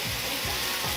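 Butter and flour sizzle loudly in a hot pot, a dense continuous hiss close by with faint stirring scrapes underneath.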